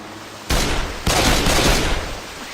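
Rapid gunfire from Left 4 Dead 2 on the Hard Rain campaign, in two loud, dense bursts of overlapping shots, the second sustained for over a second before tapering off.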